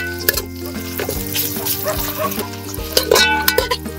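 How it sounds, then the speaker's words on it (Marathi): Sliced onions fry over a high flame for mutton pulao, a loud, close sizzle with stirring clatter, and voices and other sounds over it. "आपण ते हाय फ्लेमवर परतून घेऊया"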